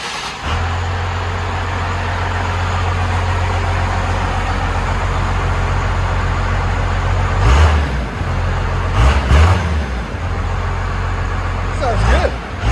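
1997 Dodge Ram with a 5.9L Cummins diesel and Magnaflow exhaust idling nearby, a deep steady low rumble throughout, with brief louder revs and a few background voices.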